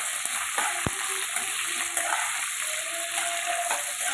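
Onions frying in a pan for a village-style prawn and ridge gourd curry. A steady hiss of sizzling oil, with a clink and some stirring.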